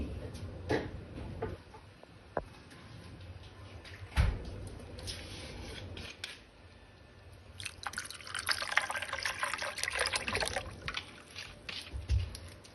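Water is poured into a glass of falsa sharbat over ice, with soft drips and clinks early and then a brighter, sustained splashing pour in the second half, close and fairly quiet.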